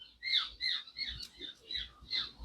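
A bird squawks and chirps in a rapid series of about five shrill, scratchy bursts, fairly close and moderately loud, with no talking.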